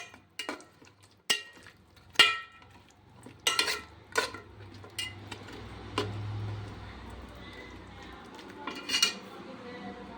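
A spoon clinks and scrapes against a metal pan as ginger garlic paste is stirred into chicken pieces, with intermittent sharp taps and softer scraping strokes, close and moderately loud, with no talk.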